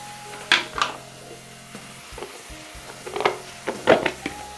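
Garlic paste hits hot oil for soyabean chilli, giving a soft crackle in the pan broken by several sharp stirring clatters and scrapes. No one speaks.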